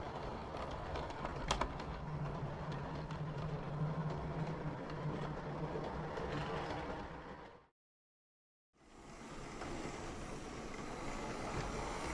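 A model railway goods train hauled by an N2 locomotive runs on a layout at a steam gala, giving a continuous close rumble and rattle that drops to silence briefly before resuming.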